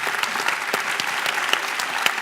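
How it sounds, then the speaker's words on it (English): Steady applause from a keynote conference audience, a brief burst of clapping with scattered louder claps throughout. "Big round of applause."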